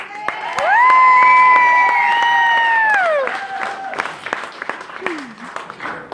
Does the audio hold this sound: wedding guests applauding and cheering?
yes